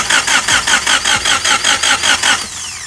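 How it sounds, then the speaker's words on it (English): Honda H22 engine cranking on its starter motor with no fuel, a steady fast rhythmic churn of about a dozen even compression pulses over three seconds, loud and close, before the cranking winds down near the end. "The car's cycling over."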